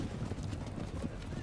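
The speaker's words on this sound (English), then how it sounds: "We bring horses for you." Horses brought as a gift from a desert tribe, with steady hoof clip-clop and a brief whinny under continuous talk and crowd noise.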